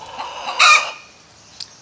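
Backyard hens clucking loudly after laying an egg, one sharp burst of squawking cackles near the mic, then quieter scattered clucks and a brief final call.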